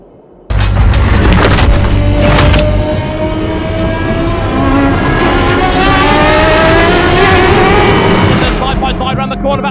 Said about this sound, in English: through goes the Ascari, gaining a place, up to third goes Werner Lutberger.